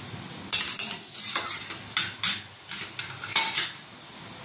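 Onion fries in a pan and is stirred with a metal utensil, giving a string of close, sharp scraping clinks in an irregular rhythm over a faint sizzle.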